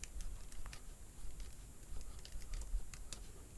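Code is typed on a computer keyboard in a rapid, uneven patter of light key clicks, close and fairly quiet, with no talking.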